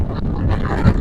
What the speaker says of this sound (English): I do apologise if the sound quality is poor because it is very, very windy tonight.